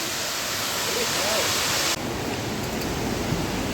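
Shivling waterfall near Cherrapunji, Meghalaya, pours a loud, continuous rush of falling water, a steady dense roar heard up close without breaks.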